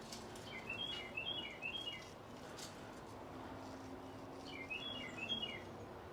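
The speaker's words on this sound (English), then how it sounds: "The sounds of these birds is just," Birds chirp and tweet in short repeated bursts outdoors while microgreens are harvested, the calls fairly faint against a steady background hiss, with two main clusters of song.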